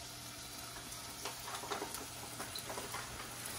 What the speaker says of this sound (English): Clarified butter, we add the scallops on medium heat.